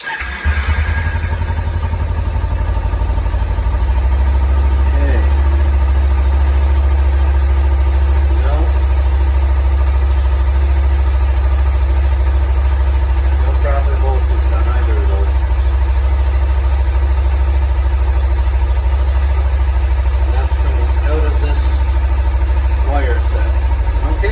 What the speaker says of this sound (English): Turn the engine on.